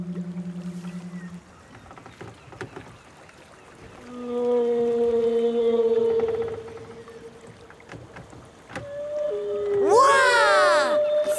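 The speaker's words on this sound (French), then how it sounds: "C'est une baleine qui chante." Whale singing picked up by a microphone dipped into the water: long tonal moans and held notes, then rising and falling swooping calls that grow louder near the end, alone without talk.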